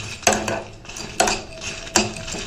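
Lentils, coriander seeds and dried chillies dry-roasting in a pan, heard as a spoon scraping and clinking against the metal in three sharp strokes with a soft rustle of dry grains between them, close and with no talk.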